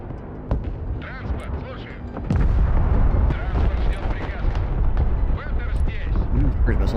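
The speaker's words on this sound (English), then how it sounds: "Cruise missiles did a bit of damage." Heavy explosions from cruise missile strikes in the war game Broken Arrow, a dense rumbling barrage of booms that swells after the first couple of seconds and keeps rolling continuously.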